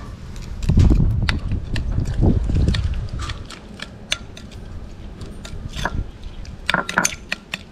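Raw pork offal salad being mixed with fish sauce, with close clinking and scraping of utensils against a dish, a wet mushy stir at first, then sparse taps and clinks.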